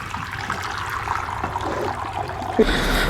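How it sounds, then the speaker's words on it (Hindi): Water sloshing and trickling as dirty water is tipped out of a bird water bowl and the bowl is refilled, a continuous close splash and pour ending in a brief louder gush. "तो अभी पानी जो है वो मैं रिफ़िल कर लेती हूँ। ये गंदा है, इसको फेंक देते हैं।"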